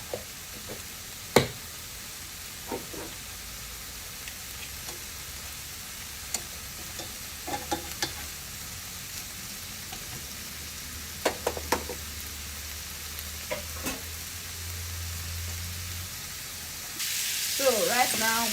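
Shrimp pan-fry in butter with a soft, steady sizzle, punctuated by occasional sharp clicks and taps of a utensil against the pan, heard close with a brief burst of louder hiss at the very end.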